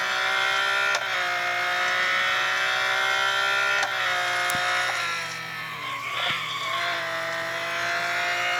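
A race car skids under late braking on the Le Mans track, its engine holding a loud, steady whine with abrupt gear shifts and a sustained tire screech that wavers midway, all close and continuous.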